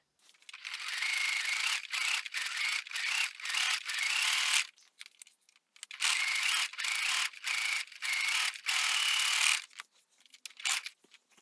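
A sewing machine stitches around a fabric face mask in two long runs of steady, fast mechanical whirring, each broken by brief pauses and clicks as the work shifts.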